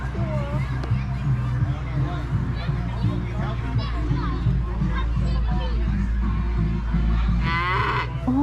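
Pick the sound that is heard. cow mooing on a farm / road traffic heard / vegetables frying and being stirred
cow mooing on a farm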